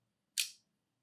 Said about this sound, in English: and that releases the shutter